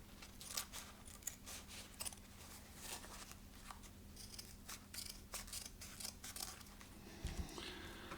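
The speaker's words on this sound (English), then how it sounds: "then just go ahead and cut the excess off" Scissors snip away excess material from a handmade sock puppet, a run of quiet, close, crisp cuts and rustles spread irregularly over several seconds, with a low steady hum underneath.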